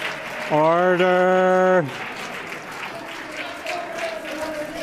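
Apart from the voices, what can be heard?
legislators clapping in the House chamber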